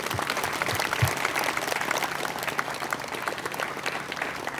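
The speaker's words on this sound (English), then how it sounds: "Please join me in a round of applause and appreciation." Audience applause at a community memorial dedication in La Crosse, a dense, steady wash of many hands clapping with a faint murmur underneath.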